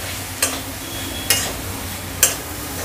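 Capsicum and mixed vegetables stir-frying for mushroom fried rice, a constant sizzle broken by three sharp spatula clinks against the pan at roughly even intervals, close and without talk.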